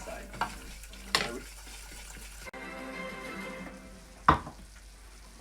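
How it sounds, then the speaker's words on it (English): Flour roux cooks in a pan with a soft, low sizzle and occasional stirring scrapes, a quiet steady frying bed broken by a few brief clinks. "when you're making a roux, it's important that you cook out your flour"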